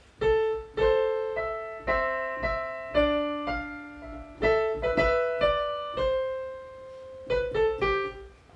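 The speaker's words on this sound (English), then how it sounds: "the oboe and the clarinet parts together sound like this" An oboe and a clarinet play together in short, detached phrases with pauses between, clear and close, no talking.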